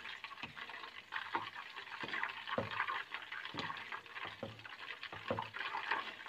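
Half a cup of suji (semolina) being stirred into a pan for a South Indian sweet, with soft rhythmic scraping strokes over a low hiss, close and fairly quiet.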